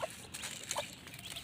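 A chick that has slipped out of its pen clucks a few short, faint chirps against a quiet outdoor background.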